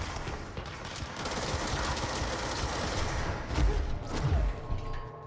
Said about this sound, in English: the submachine gun's been upgraded a bit